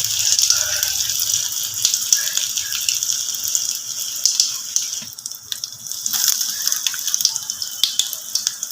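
Biscuit-crumb-coated egg and potato chops fry in hot oil, with a continuous bubbling sizzle broken by sharp crackles and pops, close and moderately loud throughout.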